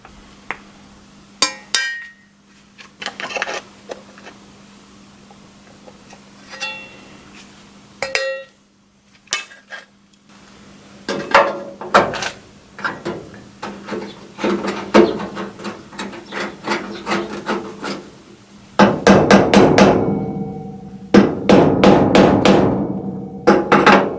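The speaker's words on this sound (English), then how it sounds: "Firstly, I want to make some holes for the spot welds." Holes for spot welds being made in sheet metal on a Żuk van: sharp metallic clicks and taps come in irregular bursts, separated by short pauses, with a faint steady hum underneath.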